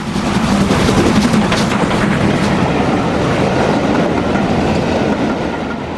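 A Stanier steam locomotive, 45231, rumbles past close by hauling a train, a steady heavy roar with faint rhythmic clatter throughout, no voices.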